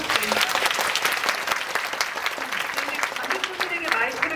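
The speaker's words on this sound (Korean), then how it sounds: "일단 두 분에게 박수 좀 부탁드리고요." An audience at a movie talk event for the film Revolver in a cinema gives a sustained round of dense applause, loud and steady throughout, while a voice briefly speaks over it.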